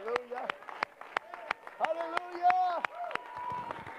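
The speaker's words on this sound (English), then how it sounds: "would you clap your hands one more time to him as you're being seated?" A church conference congregation claps their hands in a steady, regular beat, sharp distinct claps cutting through sustained organ-like musical tones, at moderate loudness.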